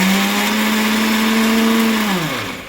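A kitchen mixer grinder blends garlic and ginger into a paste without water, its motor whirring loudly and steadily at close range before winding down at the end.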